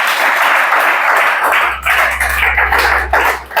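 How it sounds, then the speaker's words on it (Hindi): A classroom of students preparing for the Chhattisgarh police sub-inspector exam clap hands loudly together, a dense, steady roar of applause that thins slightly near the end, with a low hum joining partway through. "जोर से ताली बजाओ जल्दी से।"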